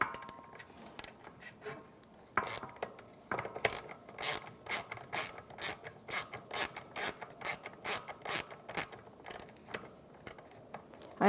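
Ratchet with a 1/4 inch socket backing out fuel pump screws on a 1992-1996 Ford F-150: rapid, regular clicking bursts, close and fairly loud, after a couple of quieter isolated clicks, with no talking.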